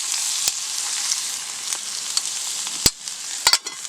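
Bacon and halved Brussels sprouts fry in a pan over an open fire, giving a steady, loud sizzle with occasional sharp pops and crackles, close up and without voices.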